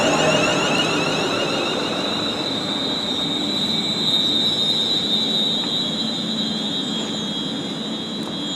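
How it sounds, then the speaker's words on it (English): A train pulls into a station on the line toward Birmingham, a steady rumbling roll of wheels on rails with high, sustained squealing tones over it, loud and close with no voices. "So I'm just waiting for this train now to head down to the line to Birmingham."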